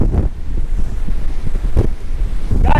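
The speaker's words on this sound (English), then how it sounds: "We're getting some good gusts, probably 60, 65 miles an hour, and it's bringing sand along with it." Hurricane wind gusts of roughly 60 to 65 mph batter a Florida beach at Lantana, carrying sand; loud, steady rumbling buffeting with sharper gust bursts, surf mixed in, no talk.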